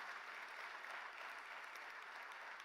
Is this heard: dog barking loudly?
no